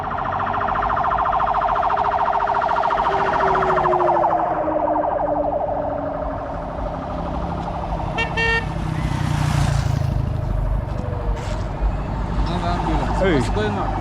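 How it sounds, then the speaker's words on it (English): An ambulance siren wails continuously through Nairobi traffic, loud and close, with vehicle noise and people talking underneath. "And this is an ambulance."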